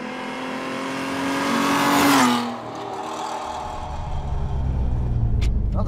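An old Peugeot with a homemade exhaust revs hard close by, climbing to a loud peak before dropping back to a rough, rumbling idle.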